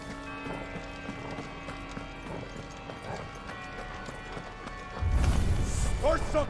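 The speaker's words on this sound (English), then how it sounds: "Horses!" Galloping horses in Final Fantasy XVI thud faintly under music, then a louder crashing surge of hoofbeats and clatter near the end.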